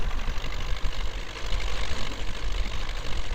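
An MTZ 82.1 tractor's engine chugs at a slow crawl in the Spintires: Mudrunner driving game. The rough, knocking drone is loud and close and runs continuously with no gaps.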